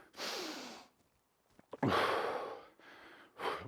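A person catching their breath after a bodyweight high-intensity workout, taking several heavy, forceful breaths with audible sighing exhales and a sharp inhale, close to the listener, with brief quiet gaps between them.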